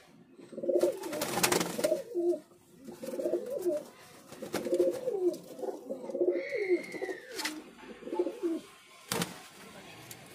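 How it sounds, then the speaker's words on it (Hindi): Saharanpuri pigeons coo repeatedly in soft, rolling phrases close by, with a few sharp clicks and a brief higher chirp. "बहुत ही नायाब कबूतर है"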